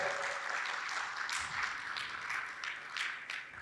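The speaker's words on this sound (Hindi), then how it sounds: "एक बार जोरदार जोरदार तालियों से नायक जी का स्वागत।" An audience in a religious question-and-answer gathering claps to welcome a guest, giving a soft, fairly distant patter of applause that continues without breaks for a few seconds.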